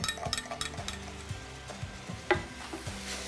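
Ground beef sizzling and browning in a frying pan, steady soft frying with repeated scraping stirs and a light clink of a utensil against the pan.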